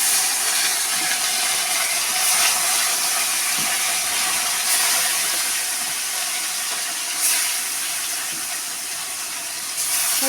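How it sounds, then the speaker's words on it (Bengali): Joari fish rubbed with salt and turmeric hiss loudly in hot oil, a close, constant frying roar with faint rhythmic ticking and occasional bursts of spatter. "তেলে মাছ দেওয়ার সময় এই আওয়াজটা শুনতে কিন্তু আমার বরাবরই খুব ভালো লাগে"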